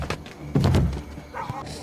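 A single heavy punch knocking a man out, a dull thump landing mid-clip among a few lighter scuffling thuds, close and short with no talk.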